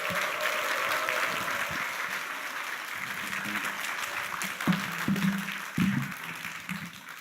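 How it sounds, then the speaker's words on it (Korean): A church congregation at a Sunday evening service claps warmly to welcome a speaker. The applause is steady and fairly loud, with a few sharper claps and murmurs toward the end. "따뜻한 사랑과 격려의 박수로"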